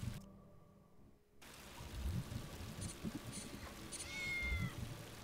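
A cat meowing in the video game Tales of the Neon Sea, a short rising meow standing out over a steady rainy ambience with low rumbles.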